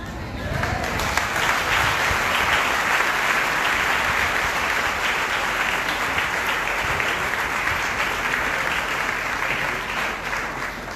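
A church congregation applauding after a sermon, with sustained dense clapping from a large crowd filling the room, loud and steady for the whole stretch with some voices mixed in.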